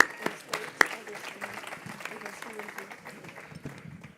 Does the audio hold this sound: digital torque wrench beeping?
no